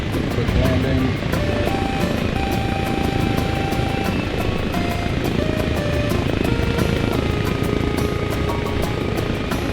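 Helicopter in Arma Reforger holding an auto-hover for a quick landing, a loud, constant rotor drone with a thick engine hum and shifting tonal whines layered over it, steady throughout.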